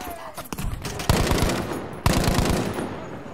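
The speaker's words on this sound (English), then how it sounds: "This burst fire is not good." Burst-fire rifle shots in Battlefield V, with rapid loud rattling bursts landing in two clear volleys over a background of game noise.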